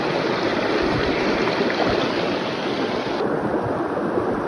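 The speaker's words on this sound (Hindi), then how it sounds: "एक पानी की चलने की ये जो आवाज़ रखती है बहुत सुकून देती है मुझे" Flowing water of a village stream, a steady close wash of rushing, bubbling noise that runs unbroken and fairly loud with no voices.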